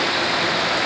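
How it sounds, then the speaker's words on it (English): Creek water flows at Raven Hollow Ranch in a continuous broadband rush, steady and close, heard alone for about a second. "Down by the creek, you can hear the birds singing, the water flowing properly."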